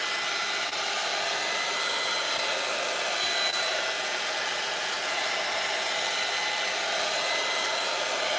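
A hair dryer blows steadily on a paper craft project, one even, loud rushing hiss that holds unbroken from start to finish with no voices.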